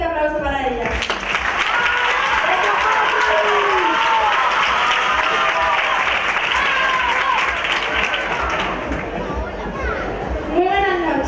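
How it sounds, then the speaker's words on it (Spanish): Sustained, loud audience applause fills a theatre during a Miss Grand Huelva beauty pageant final in La Palma del Condado, with crowd chatter and cheering voices mixed into the dense, steady clapping. "Un fuerte aplauso para ellas."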